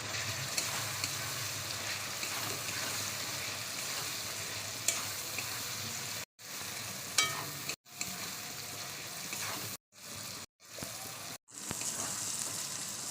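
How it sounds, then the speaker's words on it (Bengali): Chilli powder, garam masala and green chillies sauté in oil in a pan with a dense, continuous sizzle and stirring, cut by several brief abrupt silences partway through. "দিয়ে দেবো কিছু কাঁচা লঙ্কা। এবার আমি এগুলোকে ভালো করে কষিয়ে নেবো।"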